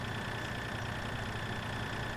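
A tractor engine in Farming Simulator 2013 runs at a steady, even drone, with a low mechanical rumble and no change in pitch, loud and continuous, with no talking.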